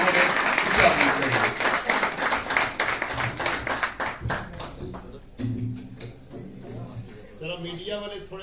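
An audience at a church sermon breaks into loud clapping that starts dense and gradually thins into scattered individual claps, with a voice speaking over the tail end.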